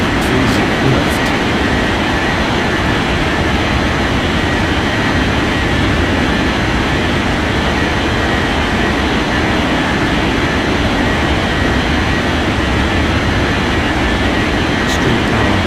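A jet airliner takes off in the game Unmatched Air Traffic Control, giving a steady, loud, broadband engine roar that holds evenly throughout with no talk.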